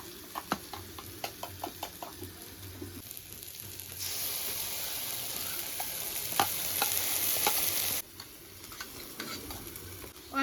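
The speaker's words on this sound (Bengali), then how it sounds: "পোস্ত আর সরষে বাটা, সেই মশলাটা দিয়ে দেবো। ভালো করে একটু কষিয়ে নেব।" Ground poppy seed and mustard paste frying in a pan, with scattered scraping stir clicks at first, then a loud, steady sizzle burst for several seconds before it drops back to quieter stirring taps.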